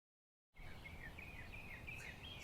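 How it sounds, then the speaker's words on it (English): Birdsong drifts in outdoors, a steady run of high chirping phrases over a constant background hush, continuing throughout at a fairly faint level with no voices. "Birds in the background, sorry about that,"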